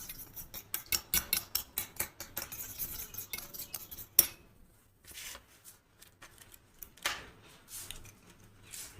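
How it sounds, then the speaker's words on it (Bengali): Egg beaten briskly in a bowl with a fork or whisk for spring roll batter, a rapid run of clinking, scraping strokes for about four seconds, then a pause and a few softer, scattered taps, close and clear with no talk. "আমি ডিমটাকে একটু ভালো করে ফেটিয়ে নিচ্ছি"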